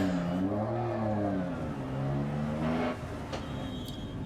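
A Lancia Stratos rally car engine in Dirt Rally, on a Monaco stage, revs up and down close by with a steady droning tone as the car pulls away.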